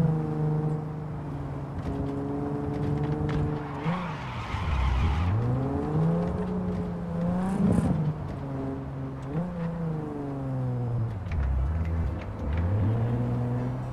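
A damaged car in Cyberpunk 2077 revs and skids, its engine tone rising and falling in long sweeps, broken by loud tire screeches around four and eleven seconds, all close and steady with no talk.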